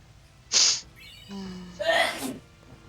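A single sharp sneeze bursts out close to the microphone, followed moments later by a gasping, breathy second sound, over a quiet background.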